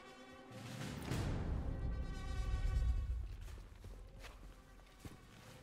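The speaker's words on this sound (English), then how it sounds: "you can actually hear footsteps louder and stuff" Footsteps in the video game Sniper Elite 5, a muffled run of steady treads in the game mix that swells and then fades over a continuous low rumble, with no talking.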